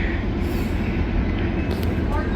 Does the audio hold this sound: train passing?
yes